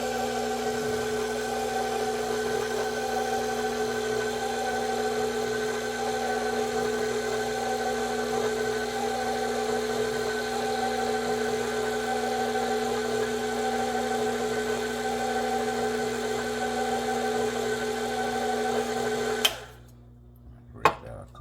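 Electric stand mixer whirring steadily on its lowest speed while mixing chocolate pecan pound cake batter, a constant close motor hum that stops abruptly near the end, followed by a couple of faint knocks.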